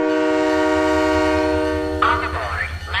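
A departing train in the video game Halo 3: ODST sounds a long, loud sustained horn tone, then a rising, swooping whistle-like cry, with rumbling beneath.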